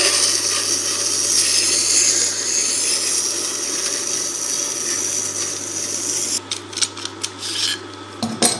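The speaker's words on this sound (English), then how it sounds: "To take the other side of the skew chisel, just turn the tool around." A skew chisel held in a Tormek SVS-50 multi jig against the turning sharpening wheel, a steady close grinding hiss under the machine's hum, followed by a few clinks and knocks near the end, with no talking.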